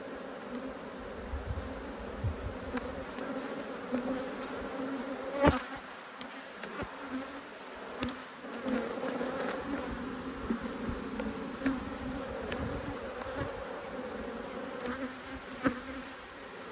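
Bees from two agitated hives buzz continuously during an inspection, a sustained droning hum with occasional close passes and brief bumps, fairly quiet overall.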